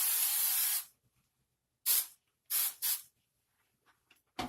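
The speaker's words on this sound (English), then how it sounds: "spray it again upside down" Hair spray hisses from an aerosol can onto upside-down hair in a close, bright burst, then after a pause two quick short sprays, followed by a final brief puff.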